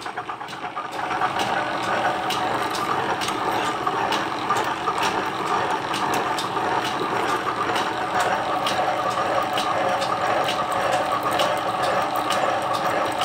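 A homemade counterbore tool turns on a slowed-down machine, giving a steady mechanical whir and churn with faint rhythmic ticking throughout, fairly loud and close, with no talking.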